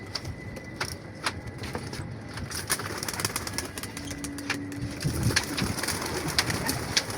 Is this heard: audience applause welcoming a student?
no